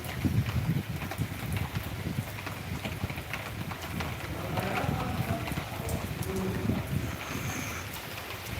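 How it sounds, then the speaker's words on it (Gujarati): Steady rain falls outdoors in Deesa, Banaskantha, Gujarat, a continuous broadband wash with some wind buffeting the microphone, loud and unbroken throughout with no voices. "વરસાદ ચાલુ છે લાઈવ"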